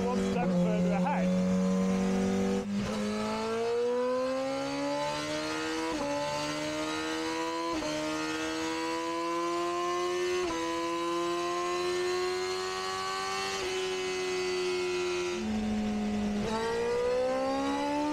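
A Honda Fireblade superstock race bike revs hard on a dyno, its engine note climbing steadily in long sustained pulls with brief dips between runs, loud and close throughout.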